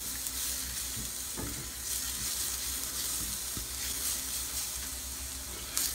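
Garlic warming and frying in a skillet gives a steady, moderate sizzle with a few light stirring knocks, close-up and continuous without speech.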